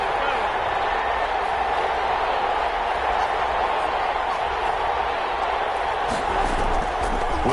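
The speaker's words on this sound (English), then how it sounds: "the crowd getting into it as we come up on a big third down" Steady roar of a football stadium crowd cheering during a Seahawks vs Lions wild card game, a dense, constant wash of noise throughout with a commentator talking over it.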